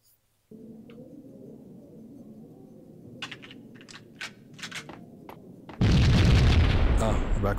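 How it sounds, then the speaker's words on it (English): Explosions and gunfire in the Max Payne video game: a steady low rumble with a run of sharp bursts and pops, then a loud, sustained blast that roars through the final seconds. "Oh, we're back with the explosions now"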